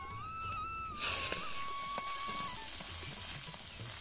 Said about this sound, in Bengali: এই আলুটা একটু লাল লাল করে, তার জন্য একটু ভেজে নিচ্ছি।